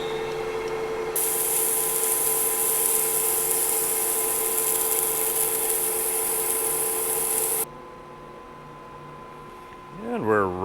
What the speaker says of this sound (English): We'll go ahead and put our chamfer on the end